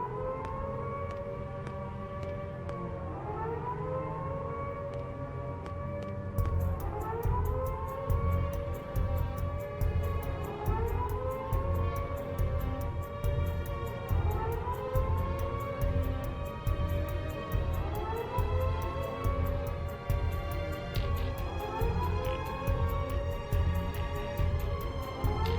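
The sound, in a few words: siren sound in the video game Xenoblade X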